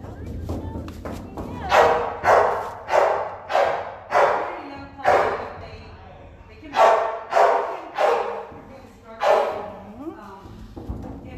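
Several dogs in a shelter kennel bark in loud, close bursts, roughly a dozen sharp barks in uneven clusters with brief pauses, over a faint low hum of the room.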